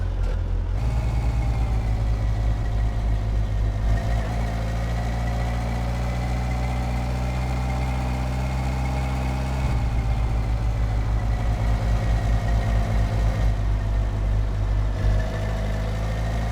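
A motorbike engine in the video game My Summer Car idles continuously with a steady, rumbling, low throbbing tone and slight shifts in pitch, no voices.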